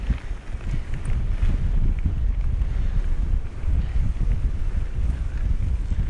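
Wind gusting across Salisbury Plain on a stormy byway, a continuous loud low roar buffeting the microphone, rising and falling slightly throughout, with no voices.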